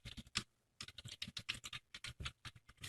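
Typing on a computer keyboard while programming in C#: quick, close key clicks in uneven bursts, with a short pause near the start and then steady clattering.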